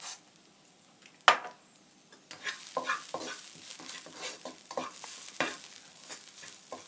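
Mushrooms stir-fried with holy basil in a pan using little or no oil, with sharp scraping spatula strokes over a soft, intermittent sizzle, close and irregular.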